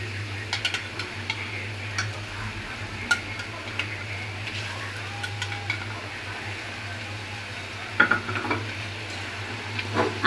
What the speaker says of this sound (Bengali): এখন আমি এখানে দিয়ে দিব আমার ভাজা মাছ।